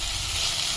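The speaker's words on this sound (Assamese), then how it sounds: "খুন্দি থোৱা আদা নহৰুখিনি দি দিলোঁ কিছু টাইম লগ কৰি ভাজি লওঁ" Crushed ginger and garlic frying in a pan for an Assamese small-fish curry make a steady, close, loud sizzle and hiss without a break.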